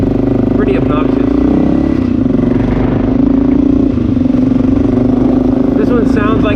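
Honda XR650L motorcycle fitted with a Lexx exhaust, running close by: a loud, steady single-cylinder thump that swells slightly as it revs, with a voice talking over it.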